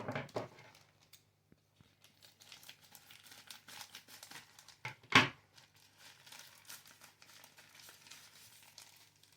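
Parcel packaging being torn open and crumpled, a crinkly rustle that runs on and off with one sharp tearing burst partway through, close and fairly quiet.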